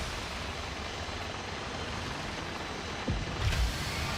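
A helicopter flies in the video game HEAT. Its rotor and engine make a constant roar that stays steady, with a brief thump and rumble near the end and no speech.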